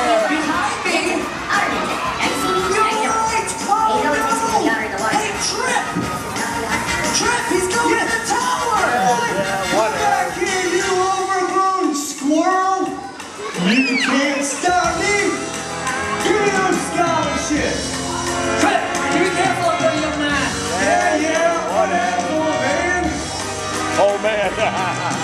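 A crowd at a sea lion show shouts, cheers and screams in a loud, continuous roar that dips briefly midway and then surges again, mixed with excited voices.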